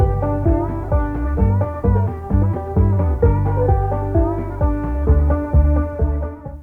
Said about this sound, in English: we wanted to add some music coming from the truck stereo